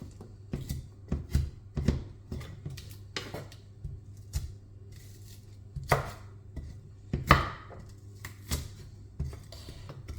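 A knife chops an onion on a cutting board for a coconut fish dish, making irregular sharp taps close up with short pauses between the strokes, and nobody speaks.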